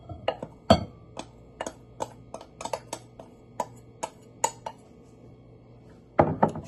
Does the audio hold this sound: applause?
no